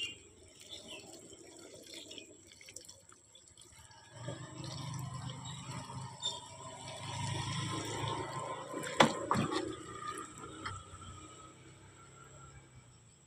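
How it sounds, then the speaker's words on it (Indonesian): Water poured onto sweet potato plants in a garden bed: a soft trickle and splash that swells in the middle with a few louder splashes, fairly quiet and with no voices. "Selanjutnya disiram."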